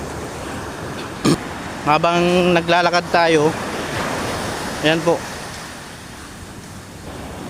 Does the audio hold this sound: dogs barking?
no